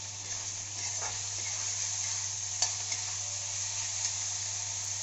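Potatoes fry in oil for leftover-rice fried rice, a quiet, continuous hissing sizzle with a few faint stirring taps, nobody speaking.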